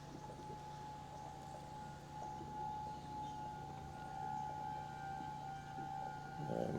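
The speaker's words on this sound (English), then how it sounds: "Must be testing the sirens." A distant civil defense siren under test holds a steady, sustained tone over faint outdoor ambience, growing slightly louder toward the end.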